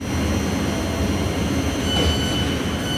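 A Thameslink train standing at a station platform, a steady close mechanical rumble with a faint high whine and slight squeal throughout.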